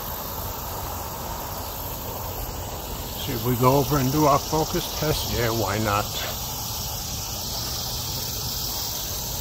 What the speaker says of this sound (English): As you can hear, the cicadas are still out here.